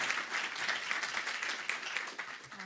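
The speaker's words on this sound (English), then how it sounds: "we have to clap for you" An audience at an MIT Solve event breaks into steady, dense applause of many hands clapping at once, fairly loud and continuous throughout, with no voices on top.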